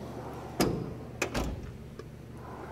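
A single sharp clack followed by a couple of quick rattling knocks as a metal Cornwell Pro Series tool box drawer slides open and bumps, close by in a quiet room.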